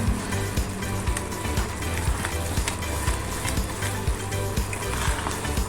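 Ghee sizzling in a pan while sweet pongal cooks, a dense, close crackle and fizz that stays loud and constant throughout, with small popping bursts and light stirring noises under it.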